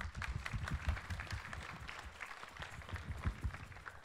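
Applause for a school drama class's play at an assembly, a lively patter of clapping with uneven bursts and swells, moderately close and fairly quiet overall.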